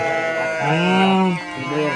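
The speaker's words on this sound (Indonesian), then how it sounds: "jadi di bawahnya nih kandang kambing ya" Goats in a pen beneath a bamboo treehouse in West Java give a single drawn-out, wavering bleat that rises and falls. It sounds close and loud over a steady outdoor background.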